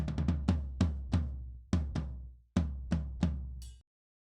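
A series of resonant tom drum hits, about a dozen strikes at an uneven pace, each booming and decaying, with no voices.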